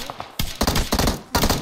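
Shotgun blasts in the mobile battle royale game PUBG Mobile, four sharp, loud reports in quick succession, each with a short ringing tail.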